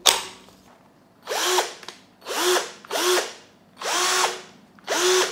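A Keelat KCD005 20V cordless impact drill with a brushed motor is triggered five times in a row: each burst whines up, holds for about half a second, then spins down. Close, loud, no talking.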